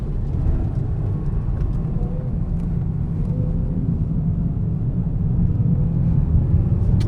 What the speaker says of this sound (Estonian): Täitsa ilus vaadata sellist autot lahkumas.